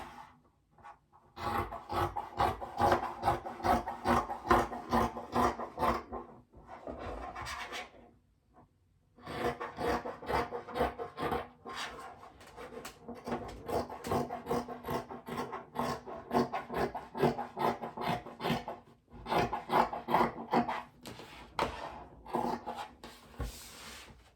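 Scissors cut through fabric for summer shorts in long runs of rasping, close snips, pausing briefly twice before resuming.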